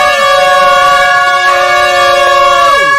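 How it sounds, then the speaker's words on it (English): A loud, sustained air horn blares continuously, then drops in pitch at the end. "with an air horn at the same time"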